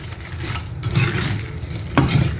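Garlic butter shrimp, a kilo of it, stirred in a pan with a steady sizzle and the scrape of a utensil, close and loud with no talk.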